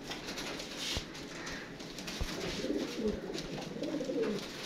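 Pigeons from a pair-breeding loft coo softly in a low, repeated burbling pattern, faint and steady across the whole stretch, with no one speaking.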